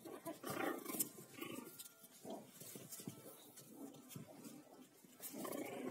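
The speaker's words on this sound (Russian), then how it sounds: "Рычуны такие, настоящие собаки." Chihuahua puppies growling softly in play, a quiet cluster of small rumbling growls and rustles that rise and fade in short bursts.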